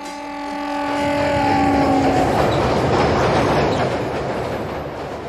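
A passenger train rolls along in the afternoon, a rising rumble with rhythmic clickety-clack of wheels swelling loud and steady, opening with a sustained tonal horn-like drone that fades as the running noise takes over.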